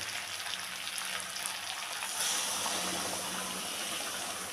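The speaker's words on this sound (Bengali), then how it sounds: "কষানো আমার কমপ্লিট এখন আমি দেব গরম জল" Hot water gushes steadily into a pot of sautéed chicken and potatoes, a broad, even hiss that swells partway through and stays close and loud, with faint sizzling beneath.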